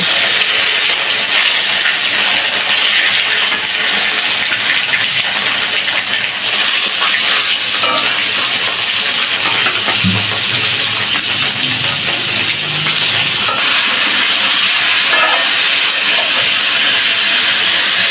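Cauliflower pieces fry in hot oil in a home kitchen, a loud, constant hissing sizzle that holds steady throughout, with occasional faint clicks beneath it.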